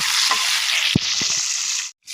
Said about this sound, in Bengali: আর আমি মাছগুলো দিয়ে কিন্তু একটু ভেজে নিব